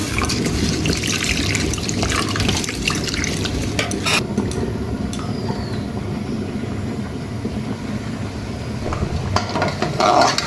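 Roasted mung and masoor lentils are rinsed in water, giving a steady sloshing and swishing of liquid that goes on without a break and stays close and fairly loud, with no one speaking.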